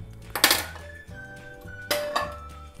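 A metal frying pan set down on a stove to cook masala for Malabar chicken chatti pathiri clanks twice, two sharp, fairly close knocks with a faint hum between them.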